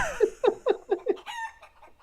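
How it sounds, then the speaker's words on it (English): A played chicken sound effect gives a quick series of five loud, close clucks, then a short higher squawk that trails off. "I got a chicken sound effect"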